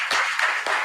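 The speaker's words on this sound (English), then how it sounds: "Please keep clapping for him till he takes his seat" A brief burst of clapping for a student at an inter-school quiz competition sounds as he walks back to his seat: a few sharp, close claps in quick succession.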